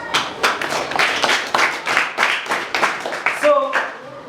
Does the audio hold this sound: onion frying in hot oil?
no